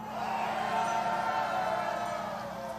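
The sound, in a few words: crowd applause at rally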